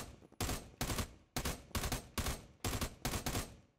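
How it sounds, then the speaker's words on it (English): Gunfire in the video game America's Army, aimed through a wall at an enemy up a staircase: about eight loud, sharp shots in quick bursts, close and alone, each with a brief decaying tail. "I'm going to try to shoot through the wall."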